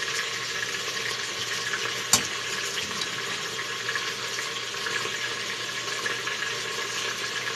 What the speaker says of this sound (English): That is browning off in the pressure cooker on the brown saute mode.